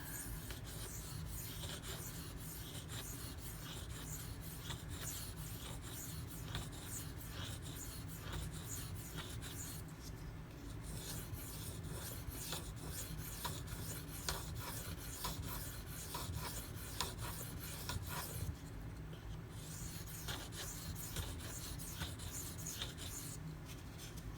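A Spyderco Dragonfly knife with V-Toku2 steel is stroked across a whetstone, giving faint, steady scraping rubs that repeat continuously with only brief pauses.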